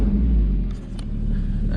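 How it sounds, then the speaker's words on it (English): Porsche 981 Boxster GTS from 2016 fires up with a deep, loud engine rumble that settles into a steady idle, heard close by and alone. "let me just start it up actually"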